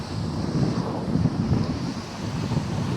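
Large sea waves rolling onto a beach, a steady low rushing surf mixed with wind buffeting the microphone, continuous and fairly loud with no voices.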